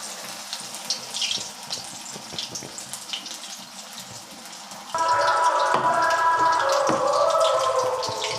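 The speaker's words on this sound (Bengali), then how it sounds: "ভেজে নিচ্ছি।" Battered stuffed pieces are deep-fried in hot oil: after a few seconds of quiet kitchen clatter, a loud, steady, close crackling sizzle suddenly starts and continues.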